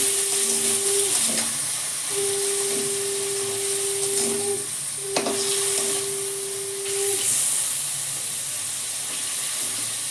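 Chicken pieces sizzle and hiss steadily in a hot pan, with occasional scraping stirs and clinks, close and continuous without talk.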